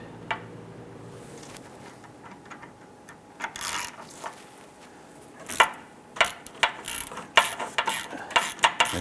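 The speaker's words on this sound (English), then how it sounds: "Use your hand ratchet." A hand ratchet clicks in quick bursts while tightening the lower AC line bolt on a 2008-2013 Nissan Rogue during condenser replacement, faint at first, then louder, sharper repeated clicks toward the end, with no talking.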